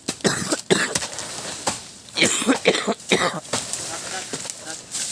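Several harsh coughs in quick bursts, close by and fairly loud, with brief pauses between them.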